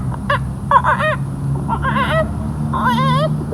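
A voice imitates a chicken with a few short squawking clucks in bursts, pausing between them over a low background rumble.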